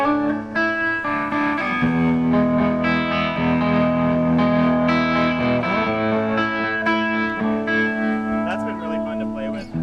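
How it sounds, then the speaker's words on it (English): Electric guitar chords through a Strymon Flint reverb and tremolo pedal ring out with a washy reverb tail and a pulsing shimmer, sustained notes blending together, played steadily for several seconds. "my Strymon Flint pedal, which is a really cool reverb and tremolo."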